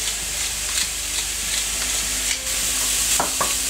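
Mushrooms and ham frying in a pan while being stirred, a loud continuous sizzle under repeated utensil scrapes and clicks, close up.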